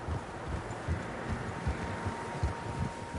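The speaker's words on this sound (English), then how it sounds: "Horses, quite a few of them." Several horses' hooves clip-clop in a steady, repeating rhythm over a ground of soft rustling noise in the video game Red Dead Redemption 2, close and moderately loud with no talk.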